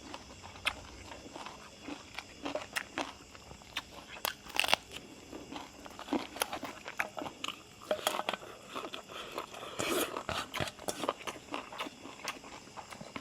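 Crispy fried turmeric chicken is bitten and chewed close up, giving repeated crackly crunches in an irregular rhythm across the whole stretch, moderately quiet with no talking.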